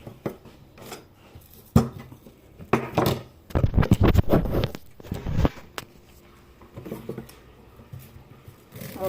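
Knife chopping chunky red onions on a cutting board, irregular bursts of close, crisp cuts clustered in the middle with scattered single knocks before and after.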